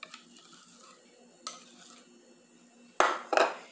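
A spoon stirs coconut cake batter made with coconut milk and butter in a bowl. There are a few soft scrapes and then two sharper clinks against the bowl near the end, quiet and close, with no talking.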